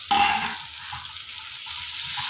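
Food frying in a pan in a home kitchen gives a steady, soft sizzling hiss that runs throughout, with a slight crackle at the start.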